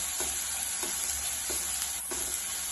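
A crushed thecha of cumin, garlic, green chilli and ajwain sizzles in a pan, a continuous bright frying hiss broken by a few soft spatula strokes, close and alone without talk.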